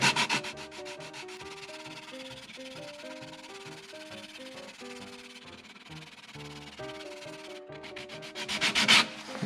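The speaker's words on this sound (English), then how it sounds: "I'm just going to go with my sanding blocks from 80 grit up to, again, 320, maybe 400" A wooden bowl is sanded by hand with sanding blocks, going through grits up to 320 or 400. The close, rhythmic back-and-forth rubbing strokes run under faint background music, and no one speaks.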